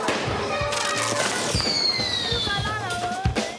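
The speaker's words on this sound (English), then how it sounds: "Kids are setting off fireworks in the Medina." Fireworks set off by kids in the Medina of post-Gaddafi Libya, a steady crackle of pops and bangs with whistling rockets rising overhead, loud and busy, mixed with crowd noise.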